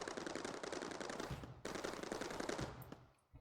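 Turrets in the video game Mindustry fire on an enemy wave in rapid, dense bursts of gunfire. The bursts come in two long runs with a brief gap between them, then fade out.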